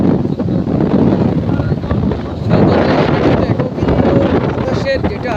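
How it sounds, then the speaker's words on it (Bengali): Strong wind buffets the microphone beside a road on a hot day, a loud continuous rumbling roar that surges and eases without pause, with no voices. "বাতাস প্রচুর।"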